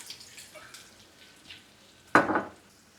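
Olive oil pours into a pan of frying chicken musakhan rolls, setting off a sudden loud burst of sizzling that crackles on for a moment after a quiet low fry.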